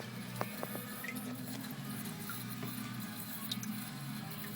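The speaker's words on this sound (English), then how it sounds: "the valve is almost closed, but we still got some drips going" Small water drips tick irregularly from a nearly closed float valve over a steady low hum of running water, quiet and close, with no one speaking.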